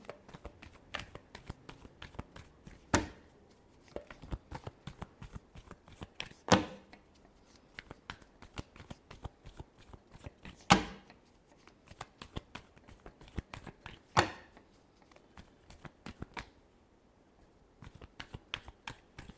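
Tarot cards being shuffled in a steady run of soft riffling clicks, with a few sharper slaps as the deck is squared, close and fairly quiet with no talk.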